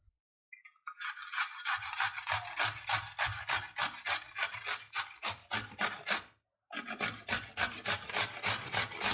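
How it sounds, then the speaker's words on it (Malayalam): Peeled potatoes rubbed against a grater for a potato omelette give a loud, close, rhythmic rasping of quick regular strokes, broken by one brief pause before the scraping resumes. "ഇനി നമുക്കിതൊന്ന് ഗ്രേറ്റ് ചെയ്തെടുക്കാം"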